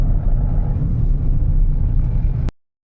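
A car on a hill road in Karnataka overtaking a line of stopped vehicles, a steady low engine rumble with wind buffeting that cuts off abruptly near the end.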